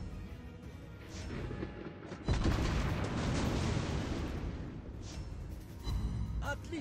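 A loud booming blast of naval gunfire in World of Warships Blitz cuts in and is followed by a sustained roar of rumbling fire and crackle, with another thump near the end.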